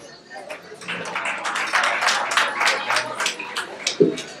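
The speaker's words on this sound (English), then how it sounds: "Please round of applause." Applause from mourners at the final burial service for a 77-year-old retired army captain, a steady patter of clapping over about four seconds, with talk mixed underneath.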